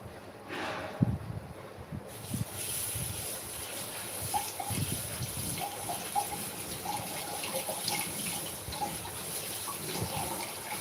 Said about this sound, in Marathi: तांदूळ जायची भाजी ही निवडून घेतलेली होती तर इला छान आता धुवून घेते